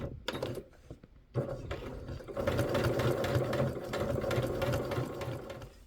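A sewing machine stitches while quilting, starting with a few slow clicks and then settling into a steady fast mechanical whirring and needle chatter, close and alone.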